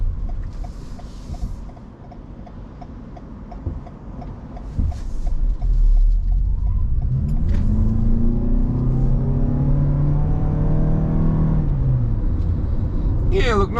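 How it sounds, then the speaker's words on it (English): A 2021 Toyota RAV4 Cruiser all-wheel-drive 2.5 litre hybrid pulls away and accelerates, its engine note climbing steadily and loudly from near the cabin, with some talk around it. "So let's go and have a look and see how it accelerates."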